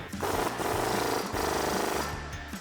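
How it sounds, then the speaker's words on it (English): A bolt on a Jeep Gladiator JT shock is tightened with an 18mm wrench and a 19mm socket, producing a loud, fast, close ratcheting rattle that runs in two bursts with a brief break between them. "with an 18mm wrench and 19mm socket, tighten it down"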